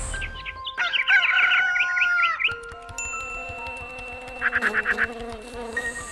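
Domestic chickens from a backyard laying flock, with a rooster's crow rising clearly near the start, then a shorter crow or cackle later, over a busy farmyard background of clucking and insect buzz.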